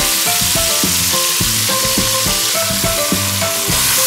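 Chicken pieces and vegetables sauté in a hot pan seasoned with salt, black pepper and bay leaf, a loud, continuous sizzle close up, with no one talking.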